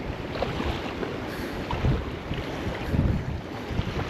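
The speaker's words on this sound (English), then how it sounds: "It's very windy" Strong wind roars steadily at an estuary shoreline, broadband gusty rumble buffeting the microphone with slight surges, no voices.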